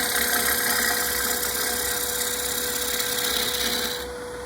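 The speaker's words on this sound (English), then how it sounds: "this is the way they turn bowls with spinner gouges" A wood lathe spins a bowl as it is cut with a spindle gouge, making a steady, loud droning whir with a constant hum that drops off sharply near the end, with no talking.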